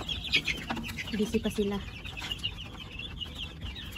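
Six-week-old Dekalb White chickens cluck softly as they peck at feed, a handful of short, close clucks and chirps over a faint, busy background.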